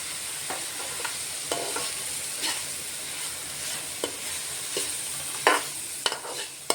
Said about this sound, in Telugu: కొంచెం జీలకర్ర వేసుకుంటున్నానండి.